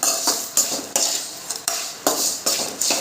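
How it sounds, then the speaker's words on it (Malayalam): A spoon scrapes and clinks against a pot while mixing dried mango pickle, with a steady run of sharp strokes about every half second, close and fairly loud, and no talking. "മാങ്ങ ചേർത്ത് നന്നായിട്ട് മിക്സ് ചെയ്ത് കൊടുക്കും."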